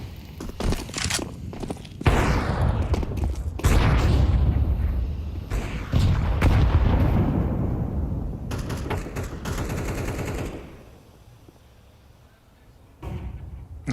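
Grenades explode down mid in Counter-Strike, several heavy booms and rolling blasts mixed with gunfire, fading to quieter ambience before a final sharp hit.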